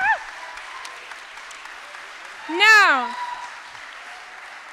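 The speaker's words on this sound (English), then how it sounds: "Let's get a round of applause." A rally crowd in Vancouver gives a sustained round of applause. A loud whoop rises briefly in the middle, and a voice speaks near the start.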